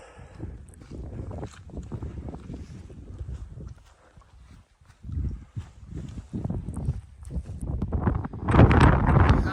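Gusty wind at Lake of the Clouds on a foggy, cold mountain buffets the microphone with low rumbling bursts, growing louder and harsher toward the end, with no one talking.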